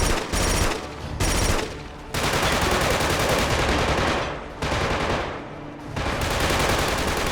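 Sustained automatic gunfire from the Killzone 2 shooter, loud and close, rattling in long bursts separated by brief gaps, with no voices over the shooting.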